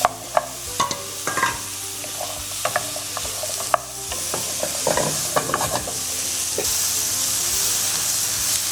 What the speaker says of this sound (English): So now adding in the broccoli and the bell peppers.